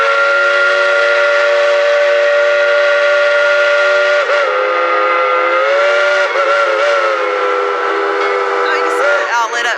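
Tweetsie Railroad's coal-fired steam locomotive No. 12 sounds its whistle in one long, loud, close blast lasting the whole stretch, with brief pitch wavers partway through and near the end.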